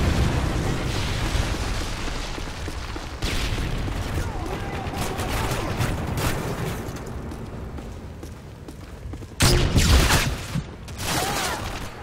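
A Predator missile in a Modern Warfare 3 multiplayer match strikes with a sudden loud explosion late on, amid dense ongoing gunfire and battle noise, with voices heard in the mix.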